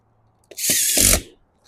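A power drill drives a tech screw into a roof beside a mushroom vent with a rubber grommet, giving one loud, close whirring burst of just under a second with a brief tick after.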